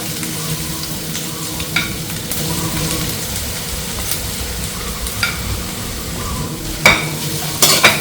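Ginger sizzles and fries in a pan for goto, a Filipino tripe congee, with a continuous crackling hiss broken by occasional scraping stirs and clinks of a utensil, close and fairly loud.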